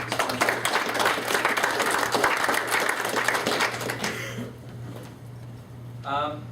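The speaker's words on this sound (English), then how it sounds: "let's give a round of applause for them" Audience applause for event sponsors at a Colorado 911 Resource Center gathering in Denver, steady clapping for about four seconds that then fades, with a faint voice near the end.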